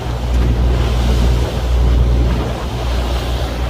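Ocean waves and gusting wind buffet the microphone on a fishing outing off the coast of Japan, a loud continuous roar with low rumbling surges and no speech.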